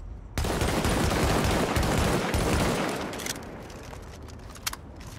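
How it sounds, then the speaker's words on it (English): A Socom M1A rifle fires in the shooter game The Division, a dense loud volley of rapid shots that trails off into a quieter tail with a few scattered sounds. "I'm gonna fire without controlling the recoil."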